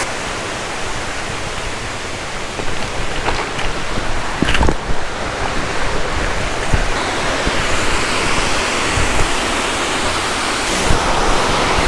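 A waterfall in the Dolly Sods woods roars with dense, steady rushing water at close range and loud volume, with a few brief knocks over the continuous wash.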